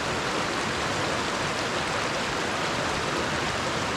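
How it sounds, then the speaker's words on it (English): Mountain river rushing steadily close by, a dense, unbroken broadband wash of flowing water with no pauses and no voices. "I love the river,"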